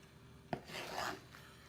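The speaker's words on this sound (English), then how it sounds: "Let me slice it about right here." A knife saws through smoked brisket cooked on a Lang smoker, one sharp tap on the board followed by a short rasping slice, close and fairly quiet.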